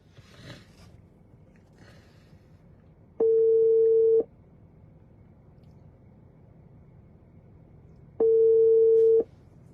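A phone call to someone in Abidjan rings out as two steady one-second tones about five seconds apart, after a few faint clicks at the start. The tones are clear and close against a quiet background.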